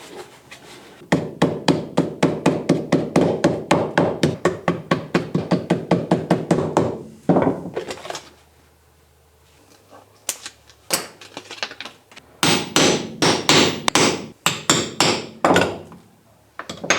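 Rapid, evenly paced hammer taps cutting out a gasket for a gold sluice pump during a restoration, running in two long bursts of close, sharp knocks separated by a quieter pause.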